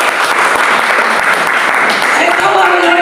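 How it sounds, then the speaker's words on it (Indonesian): A church congregation applauds during a worship service, a loud, dense, steady wash of clapping filling the room without pause. "Tepuk tangan lagi."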